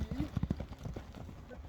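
A horse's hooves clip-clopping on hard ground at a livestock showing, a few close, quick knocking steps at the start, with a voice talking over them.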